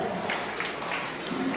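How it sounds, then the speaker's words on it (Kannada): Dense, steady applause from an audience at a pre-school and day care annual day celebration, a brief burst of many hands clapping together in a hall. "ಆ ಅಜ್ಜಿಗೆ ಒಂದು ಸರಿ ಜೋರಾದ ಚಪ್ಪಾಳೆ ಬರಲಪ್ಪ"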